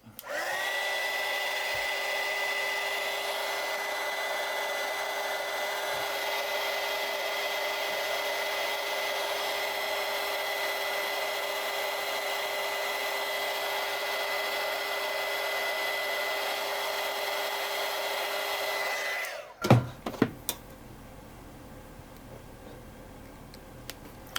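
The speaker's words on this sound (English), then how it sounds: "Add our shrink tube. Gonna heat that guy up." A hot air tool heats heat shrink tubing over a soldered antenna wire joint, a steady loud blowing roar for about nineteen seconds that cuts off abruptly, followed by a few faint clicks and handling noises.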